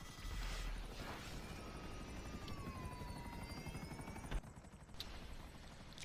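A helicopter flying in GTA Online, a steady close rotor whir and engine drone holding throughout, with a short sharp mechanical click or shot near the end.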